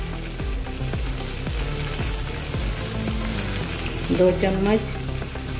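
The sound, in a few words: ketchup and chilli sauce sizzling in hot pan for veg Manchurian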